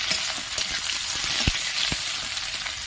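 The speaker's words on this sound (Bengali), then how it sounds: "এবার আমি দিয়ে দিলাম কেটে রাখা পেঁয়াজ কুচি।" Chopped onions frying in hot oil with panch phoron, a steady loud sizzle with a few sharp crackles and pops from the pan.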